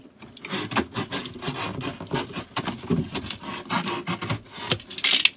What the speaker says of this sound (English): take this razor knife, and I'm going to cut in the corner all the way down